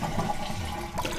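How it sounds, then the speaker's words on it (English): A fast-flush toilet with a wide-mouthed flow valve flushes in a short, steady burst of rushing water, close and fairly loud, with no talking. "It's got one of those fast flush things."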